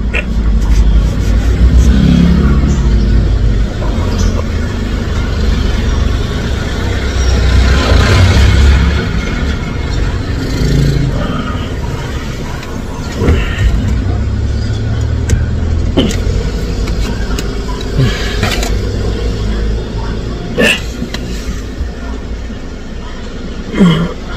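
Busy road traffic heavy with car engines, a continuous near rumble with passing vehicles and occasional revving, loud and steady with no talk over it.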